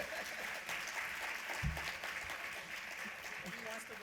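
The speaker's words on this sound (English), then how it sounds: "Can you give these volunteers a round of applause, please?" A conference and expo audience gives volunteers a round of applause, a moderate wash of many hands clapping heard from a little distance, with some voices and a few thumps mixed in.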